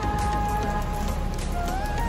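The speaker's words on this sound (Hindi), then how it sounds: "स्टेशन पे हूँ, बारिश शुरू हो चुकी है" Rain falls steadily at a train station, a constant wash of hiss and patter with faint tonal hums in the background.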